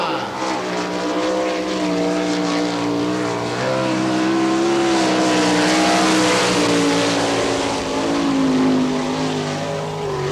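A winged sprint car at speed on a Kansas dirt speedway during an All Stars time-trial lap, engine roaring steadily with rising and falling pitch, loud and continuous throughout, with no voices over it.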